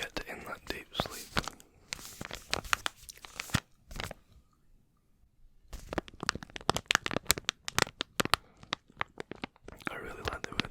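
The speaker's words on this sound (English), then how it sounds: "I've always loved heavy duty crinkles" Heavy duty plastic crinkled as an ASMR trigger: bursts of close, crisp crackling and crunching handled in short clusters, pausing briefly midway, with soft whispering in between.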